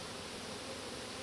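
Honey bees hum steadily around an open hive during a summer inspection, a dense, even drone close by with no voices over it.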